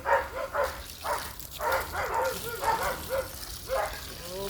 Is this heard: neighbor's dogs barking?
yes